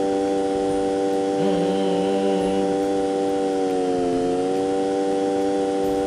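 A video game boat engine: a steady droning with harmonic buzz holds on, pitch shifting up briefly then dipping, like a small motorboat or lawnmower running close and loud.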